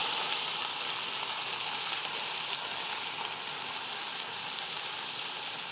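Ginger garlic paste and crushed green chillies fry in a hot pan while being mixed for vegetable pulao, giving a steady, close, loud sizzle that stays even from start to finish, with no talking.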